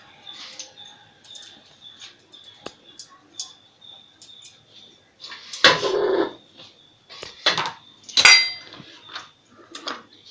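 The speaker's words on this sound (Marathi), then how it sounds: "आता कोथिंबीर कट करून घेते." A knife chops fresh coriander leaves on a board in a home kitchen, making scattered light clicks and taps that build into a few louder, sharper bursts of cutting near the end.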